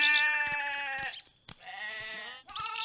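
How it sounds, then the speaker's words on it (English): Sheep bleat loudly and close by, with three drawn-out, wavering calls in a row and short pauses between them. "the sons of Laban came and they took all the speckled, spotted and the black sheep away"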